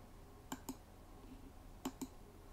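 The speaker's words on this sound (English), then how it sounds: "Click a couple of times." Two quick double-clicks of a computer mouse, spaced about a second apart, while product data is selected on a wholesaler's website. The room is quiet and no one speaks.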